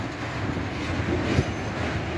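A long freight train rolls slowly through a large railroad crossing, its steady rumble and faint wheel clatter close by, with a brief louder clunk near the middle.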